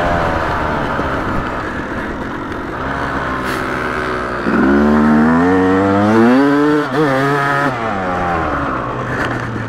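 Yamaha YZ250 two-stroke dirt bike revving at high RPM on a trail, a loud, steady engine drone that rises and wavers in pitch midway through, with no talk.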